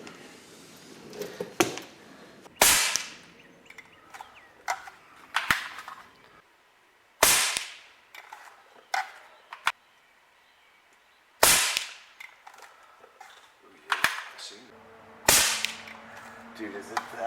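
An Umarex NXG APX air gun fires Gamo and SIG pellets, about a dozen sharp cracking pops spaced a second or two apart, with faint rustling and handling noises between shots.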